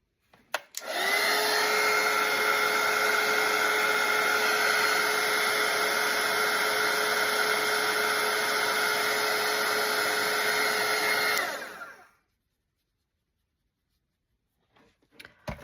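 A hair dryer dries watercolour paint on a snowman painting. It gives a loud, steady close-up whir with a constant pitch for about eleven seconds, then cuts off into near silence.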